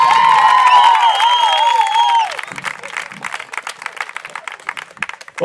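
A studio audience at a Radical Fitness class claps and cheers, starting dense under a held whistle or loud shout, then thinning into scattered claps and voices.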